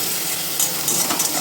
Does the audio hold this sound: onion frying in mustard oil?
yes